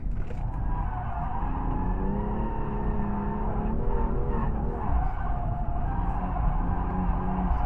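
Car drifting at a Sydney Motorsport Park drift night, its tyres hot and losing grip. The engine roars loudly and continuously, with a sustained skidding tyre squeal running through the whole stretch.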